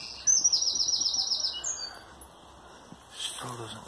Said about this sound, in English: Oh, birds tweeting.